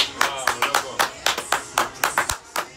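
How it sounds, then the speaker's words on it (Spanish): A few people clap for the winner of a contest on a casual guitar talk show: sparse, distinct, fairly loud individual claps in an uneven rhythm, close by, rather than a full crowd ovation. "¡Un aplauso para Matías!"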